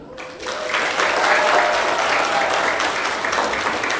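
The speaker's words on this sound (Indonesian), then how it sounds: "Satu pintas tepuk tangan, bagaimana coba?" Applause from a large audience at a Malaysian women's interdenominational revival gathering, a dense, steady wash of many hands that swells in quickly and holds loud throughout.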